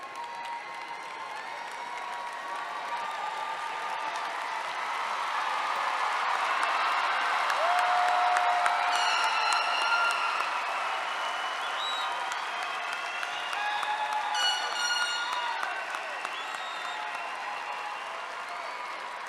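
A graduation ceremony audience at a university spring commencement claps steadily for graduates, the applause swelling and then holding at a broad, sustained level, with a few scattered whoops and cheers rising above the crowd.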